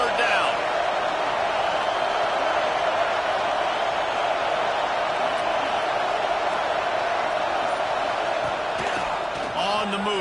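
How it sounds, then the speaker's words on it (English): College football stadium crowd roaring for the defense on third down, a dense, loud, sustained wall of cheering and noise that barely changes in level, with faint voices inside it. "Decibels rising as the crowd gets behind this defense on 3rd down."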